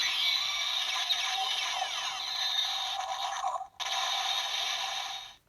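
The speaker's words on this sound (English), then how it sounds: "You got, apparently, beam gun noises." A Kamen Rider Ex-Aid DX Gashacon Bugvisor toy beam gun gives off a long, shrill electronic zapping warble, cutting out briefly before resuming and then fading away.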